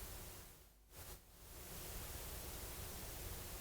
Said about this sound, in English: So there you can hear that, hopefully, the cassette hiss.